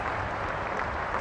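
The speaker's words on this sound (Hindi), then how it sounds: "आइए जोरदार तालियों से" A stadium crowd at Motera applauds to welcome the Home Minister, a steady, somewhat distant wash of clapping that holds evenly throughout.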